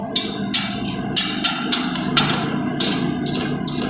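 Arc welding powered by a 48V-to-220V inverter running off a solar battery bank, heard as loud crackling bursts that start and stop in an irregular rhythm, close up.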